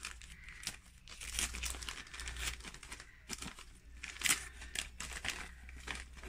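Wrapping paper on a gift is carefully unwrapped, giving soft repeated crinkles and rustles with small tearing sounds, close and fairly quiet, in short bursts with brief pauses.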